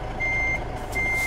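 A truck backs in while its reversing alarm sounds in American Truck Simulator, with two steady high beeps over a loud low diesel engine rumble.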